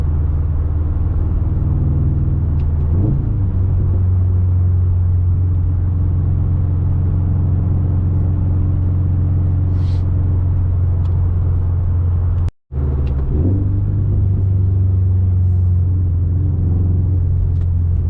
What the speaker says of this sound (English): The windows up, this exhaust honestly is not that bad.